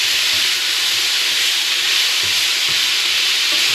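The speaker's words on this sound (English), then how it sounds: "there's no need to fry the onions other than to soften them a little bit" Onions and other vegetables gently softening in a pan for a bolognese sauce give off a continuous, even sizzle and hiss, close and steady throughout.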